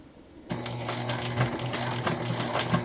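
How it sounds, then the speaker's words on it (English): Sewing machine backstitching a crossbody bag, a steady close whirring run of rapid stitches that starts abruptly after a short quiet moment and continues without talk. "you'll notice I always backstitch"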